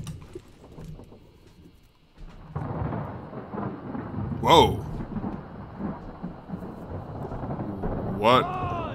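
Rumbling thunder from a storm in the video game Return of the Obra Dinn rolls steadily over the scene with rain-like hiss, and a voice exclaims briefly twice above it.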